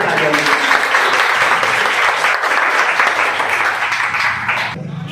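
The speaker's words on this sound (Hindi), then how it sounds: "जोरदार तालियां" Loud applause from students and audience for an invited guest at a school Independence Day event on 15 August, dense sustained clapping that fades toward the end.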